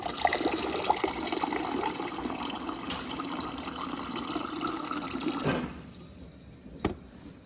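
Filtered water pours steadily from the dispenser of a Whirlpool side-by-side refrigerator, model WRS588, fitted with a new filter, a continuous close splashing fill that stops abruptly near the end, followed by a brief faint clink.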